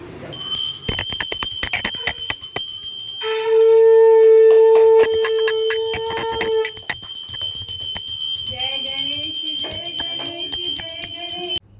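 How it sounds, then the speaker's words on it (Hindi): Shankh conch shell blown during a Ganpati puja at home, a loud sustained tone held for several seconds amid ringing bells and background household noise. "आज पार्थू ने फाइनली बहुत अच्छा शंख बजाया गाइज"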